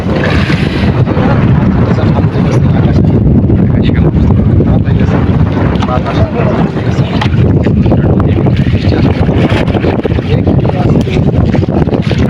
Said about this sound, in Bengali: অনেক বাতাস আজকে।